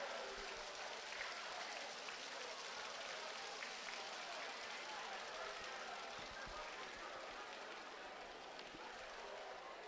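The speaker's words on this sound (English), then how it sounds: "a round of applause, a round of applause" A hall audience gives a round of applause at a national science and maths quiz grand finale in Ghana, a dense, continuous and fairly distant roar of clapping that holds steady for ten seconds.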